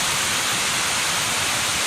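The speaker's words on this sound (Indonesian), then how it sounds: "Yang air terjun yang ini adalah air terjun yang berasal dari Weh Kebukuh Metan" A spring-fed waterfall at the Hollat natural bathing pool roars loudly and constantly nearby, a dense unbroken rush of falling water with no voices.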